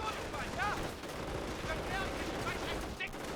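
Suppressive machine gun fire chatters in a Company of Heroes 1 match, steady rapid bursts under constant battle noise, with a commentator talking over it.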